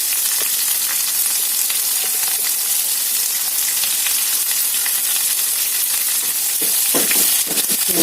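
Curry leaves crackling in hot oil in a pan, a loud dense sizzle that holds constant throughout with a few sharper pops near the end, close by and without talk.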